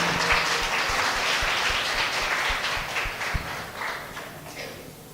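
A church congregation applauds steadily at a Sunday service, a dense wash of many hands clapping from across the room that slowly fades toward the end.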